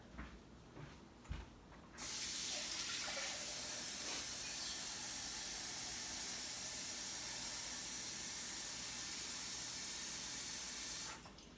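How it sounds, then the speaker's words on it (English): A continuous rushing stream of water pouring into an AeroGarden Harvest bowl with vinegar for about ten seconds, steady and fairly close, with faint handling noises before it starts. "And I'm also going to top it with some water."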